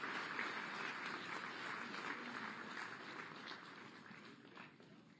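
A crowd applauds steadily at a state government ceremony for inaugurating urban development projects. The clapping is dense and sustained, fills the whole stretch, and fades slightly toward the end.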